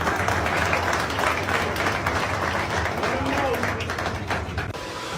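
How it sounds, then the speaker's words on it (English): Sustained round of applause from an audience, dense clapping with some crowd noise and a voice mixed in underneath. "So give them a round of applause for what they've done."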